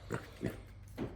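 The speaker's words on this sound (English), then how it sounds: "Little pot-belly pig." Small pot-bellied pig kept in a garage, giving three short soft grunts at even intervals, close by and quiet, with no talk.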